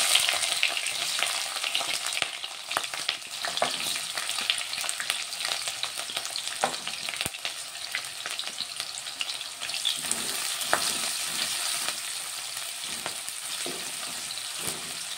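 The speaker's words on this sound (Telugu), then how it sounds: "ఇది కొంచెం ఫ్రై అవ్వాలి. ఉల్లిగడ్డ ఫ్రై అవుతుంది" Chopped onion and green chilies frying in hot oil, a continuous bright crackling sizzle up close with scattered spatula scrapes and stirring knocks, no speech.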